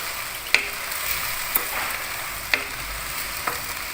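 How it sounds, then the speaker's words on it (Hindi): Green onions fry in a pan with a steady, close hiss of sizzling oil, broken by a few light taps of a stirring utensil roughly once a second. "प्याज मेल्ट होते जा रहे हैं।"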